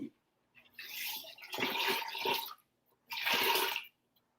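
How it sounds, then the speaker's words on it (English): Water pours into a pot of chickpeas in three separate bursts, each a splashing, gurgling rush, the last one shorter, heard close up with quiet gaps between. "I am going to add water to this"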